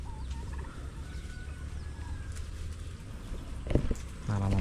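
A domestic turkey gobbles once near the end, a short rattling burst rising over steady farmyard ambience with low rumbling background noise throughout.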